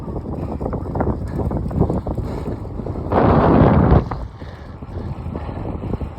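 Wind roars across the microphone during an outdoor bike ride, a steady rush with a louder, harsher gust burst in the middle before easing back to a lower buffeting.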